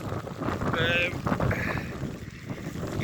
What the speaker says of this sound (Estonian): Tuul on jah, juba siin on üle 20 meetri sekundis